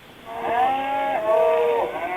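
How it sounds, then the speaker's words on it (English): Recorded cow moos from a model railway sound toy, two drawn-out, tonal lows in quick succession, close and clear over faint background hiss. "You can hear the cows going"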